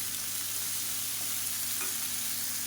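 Chopped tomatoes with salt sautéing in a pan for a spicy chutney, giving a steady, close sizzle with faint stirring, no voices.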